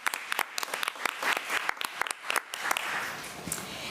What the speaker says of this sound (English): So let's give Ms. Bowlers another round of applause